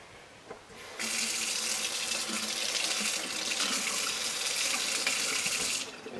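A tap switches on and runs hard into a sink, drenching waterproof matches; a short quiet start gives way to a loud, steady stream of water that carries on for several seconds, then eases as it is shut off.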